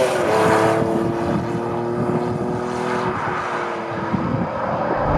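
Honda NSX with its 3.0 litre V6 VTEC engine on the road, a loud continuous engine drone with layered tonal hum holding steady, no voices.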